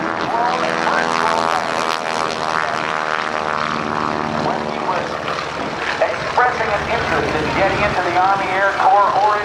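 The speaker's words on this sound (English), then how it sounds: "John Mohr is flying the stock Stearman" A Boeing Stearman Model 75 biplane with a radial propeller engine flies low at a naval air station airshow, a loud steady droning roar that shifts in pitch as it passes, with a commentator talking over it.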